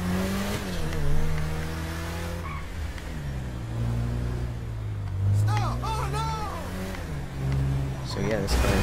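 A modded LaFerrari in GTA 5 revs and accelerates through shifting engine tones, with a brief tire squeal, while someone talks over it throughout.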